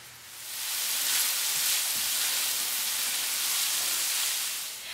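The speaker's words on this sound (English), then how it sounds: "So I'm going to let it cook for a few minutes in the butter as well." Fresh corn kernels and sliced green onions, both the white and the green parts, cook in butter in a pan, a steady, fairly loud hiss and sizzle close up with no talking.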